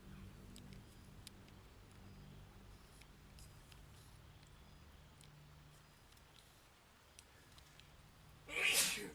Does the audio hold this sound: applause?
no